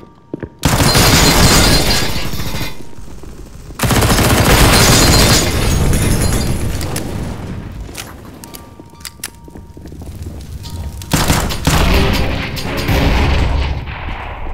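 Grenade blast in a tactical shooter video game: loud, booming detonations with long rumbling tails, a heavy burst at the start and another a few seconds later, followed by lingering debris and further blasts.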